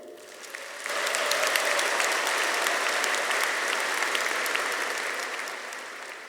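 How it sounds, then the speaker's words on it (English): Graduating MBA students' families at a Wharton commencement ceremony receive a sustained burst of crowd applause that swells quickly, holds steady for several seconds, then begins to fade. "give a brief round of applause for your family"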